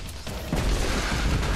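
Explosions in the video game Destiny 2, a dense rumbling barrage of booms and crashes that swells after a moment and holds loud and continuous.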